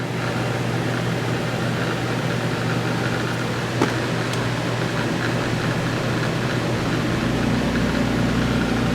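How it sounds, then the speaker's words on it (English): Guardian generator running aboard a 2008 Forest River Sunseeker 2860DS Class C gas motorhome, a steady broadband mechanical drone with a low hum, constant and fairly loud throughout with no voices. "We've got the generator running right now."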